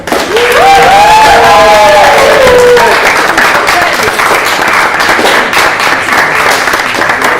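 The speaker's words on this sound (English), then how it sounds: "I think we do owe Genevieve Deere a big, big round of applause" An audience at a certificate presentation gives a loud, sustained round of applause; a voice calls out over the clapping near the start before the crowd noise carries on alone.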